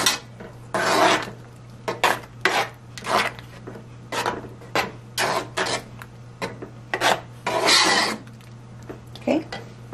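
Spoon stirring arroz con dulce, a rice pudding with powdered cinnamon, in a pot: repeated scraping, rubbing strokes in an irregular rhythm over a low steady hum.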